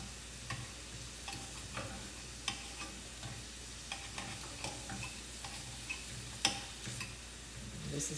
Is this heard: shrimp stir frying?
yes